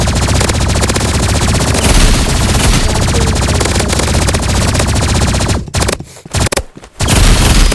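Energy pistols in the video game Rivals fire in a continuous rapid stream of loud, dense shots that break off into short stuttering bursts near the end.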